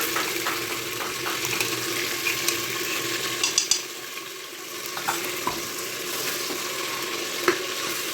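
Ginger garlic paste frying in a pan for chicken biryani, a steady low sizzle throughout with occasional stirring clinks and scrapes, fairly close and moderate in level, with no talking.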